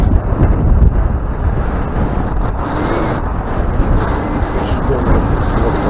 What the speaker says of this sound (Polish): Bardzo mocno ten wiatr,